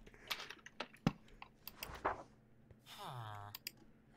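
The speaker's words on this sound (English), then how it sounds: "I can't hear you over this kid's freaking turbo engine freaking keyboard" Loud, rapid computer keyboard typing picked up over gaming voice chat, a dense run of sharp clicks and clacks close to the mic, with a brief whooshing tone sweeping through near the end.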